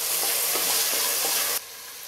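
Tomato with ginger-garlic paste sizzles loudly in a hot pan with a steady crackling hiss and faint stirring, then the sound drops away abruptly.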